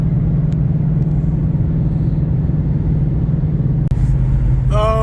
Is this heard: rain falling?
no